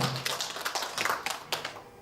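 A few scattered handclaps from an audience of older women at a weekly singing class in Bucheon, fairly faint and irregular, with sharp separate claps rising out of a quiet room.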